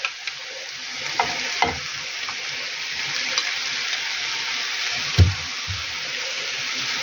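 Mushrooms fry gently in oil in a pan next to cabbage while a utensil scrapes and stirs, with a few louder knocks and clatters near the end.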